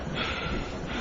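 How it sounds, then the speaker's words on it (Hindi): Panting breaths used as a sound effect in a narrated horror story: one short, close, breathy gasp-like huff with a hoarse, snorting edge. "और किसी के हाँफने की आवाज आती रही।"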